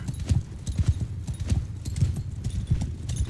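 A horse in Mount & Blade 2: Bannerlord moves at a galloping pace, its hoofbeats thudding in a steady, close, rhythmic clip-clop throughout with no speech.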